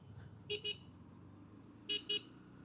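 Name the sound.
motorcycle horn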